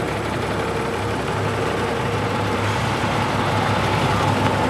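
Steady diesel drone of a Foden S20 eight-wheeler lorry at a parade, a continuous low engine rumble, fairly loud and close, with no clear changes across the stretch.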